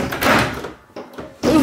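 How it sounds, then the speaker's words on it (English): A house door opens with a rough sliding rush and a couple of short thuds, loud and close, with no voices over it. "The door opened!"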